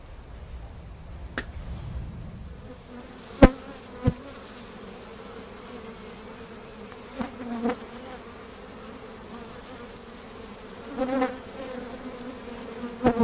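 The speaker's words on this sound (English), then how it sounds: "the bees are still coming out" Bees swarm and buzz steadily during a hive removal from a house soffit in Arizona, a continuous droning hum with a few sharp knocks and clicks rising now and then.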